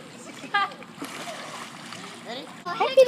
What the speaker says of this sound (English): don't splash so much, son